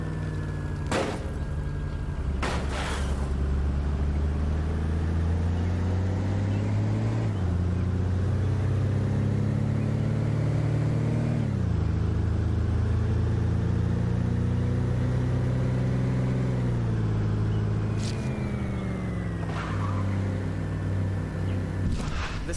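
Car driving in the video game State of Decay: a steady engine drone that rises and falls with gear shifts and revving, loud and continuous throughout, with a few sharp knocks along the way.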